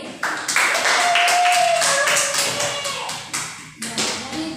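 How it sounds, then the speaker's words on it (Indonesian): A small group clapping hands in a classroom, a rapid burst of applause from several people lasting a few seconds, fairly close, with a brief whistle-like tone mixed in. "Tepuk tangan untuk kami"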